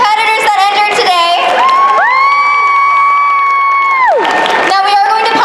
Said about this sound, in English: let's give a big round of applause to all of our competitors that entered today